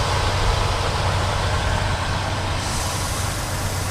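A 1975 Cadillac Coupe DeVille V8 idles steadily up close, giving a constant deep rumble that stays even throughout.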